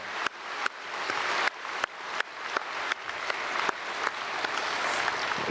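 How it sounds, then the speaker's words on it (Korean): A church congregation breaks into applause in repeated swells of clapping, each burst cut short and then starting again, heard from a moderate distance in a large worship hall. "박수로 축복하겠습니다."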